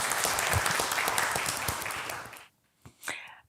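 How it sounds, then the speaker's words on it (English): An audience applauds at a live startup pitch event, dense clapping that holds steady then drops off abruptly, followed by a couple of brief isolated sounds. "Just a round of applause for you."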